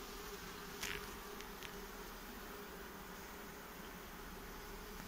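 Honeybees buzz continuously at a horizontal Ležan-style beehive with two tilting honey supers, a dense steady drone heard close, with one bee passing nearer for a moment.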